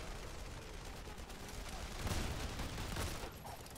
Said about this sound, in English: I love using the sniper rifle.